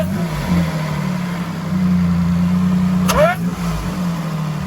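Supercharged 2015 Toyota Sienna minivan engine running steadily close by, with a low, even drone and a brief rising rev near the end.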